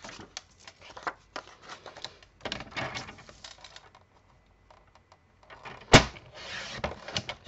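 Card paper being cut for a pop-up card: a series of soft, scratchy snips and rustles close by, pausing briefly before a sharp single snap and more crisp cutting.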